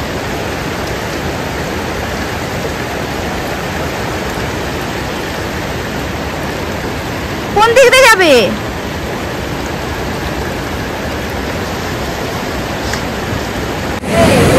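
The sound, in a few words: rain and rainwater running down into a stream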